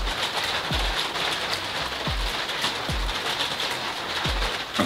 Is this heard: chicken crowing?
no